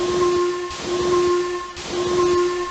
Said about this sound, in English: using Henry's whistle, he gave the special signal which meant that he wanted help up the hill